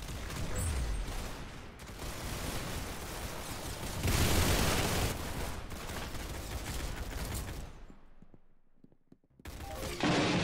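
Nutcracker gun firing in the Arsenal video game: a dense run of loud, rapid bursts of shots and mechanical clatter, then a near-silent gap before the noise resumes.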